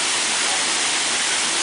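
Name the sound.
waterfall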